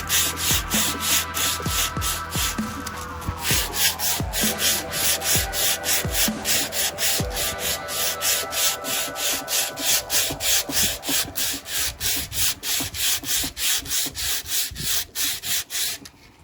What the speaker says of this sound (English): After sanding this down